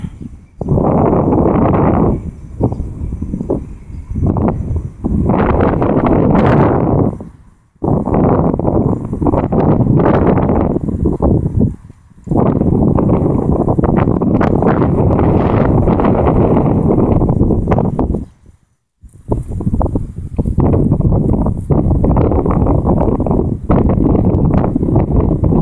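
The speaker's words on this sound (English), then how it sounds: "getting gusty. I just picked up to about 10 mile an hour, 12 mile an hour, maybe 15." Gusty winter wind buffets the microphone in heavy, rumbling bursts that rise and drop away, with a couple of brief lulls between the strong gusts and no talk.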